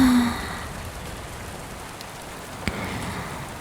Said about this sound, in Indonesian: Mana malam ini hujan deras banget ya kan?